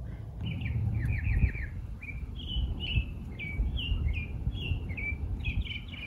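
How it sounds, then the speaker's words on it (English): A bird sings in a spring cactus garden, a series of bright repeated chirping phrases over steady low background rumble. "Can you hear the bird?"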